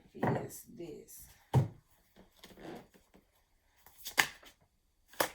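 Oracle cards being shuffled by hand, a few quick papery riffling bursts separated by pauses, with a person talking in between.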